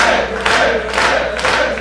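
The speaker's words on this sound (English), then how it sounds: "the crowd's starting to come up for Tibbs" A wrestling video game arena crowd cheering for a wrestler, loud and close, rising in repeated swells of roaring voices over a short stretch.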